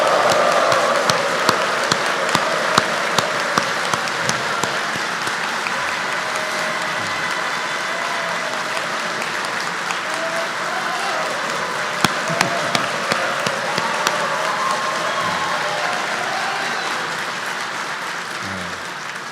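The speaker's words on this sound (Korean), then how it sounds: "크게 박수와 환호 부탁합니다" Sustained audience applause for the president at a New Year event, a steady dense wash of clapping with occasional sharper individual claps standing out, heard alone for nearly twenty seconds.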